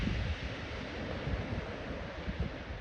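Ocean waves wash steadily on a morning shore, a continuous broadband surf roar with gentle swells and some wind noise, fairly close and with no voices.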